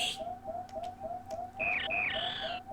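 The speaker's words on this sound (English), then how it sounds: "That's the cry of the baby Metroid from the beginning of the game." In Super Metroid, the baby Metroid lets out shrill, warbling electronic cries that repeat in short bursts over a steady, regular beeping pulse of game sound effects.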